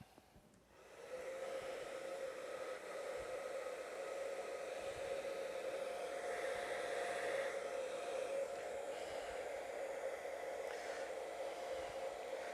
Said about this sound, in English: you are heating up a kydex to stretch it